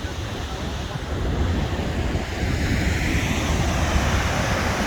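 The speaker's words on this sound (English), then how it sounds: "look at this water crashing down and the spray coming out of it" Water crashing down with spray near a glacier area in Juneau, Alaska: a steady, loud broadband roar with wind noise, continuous throughout and no clear talk.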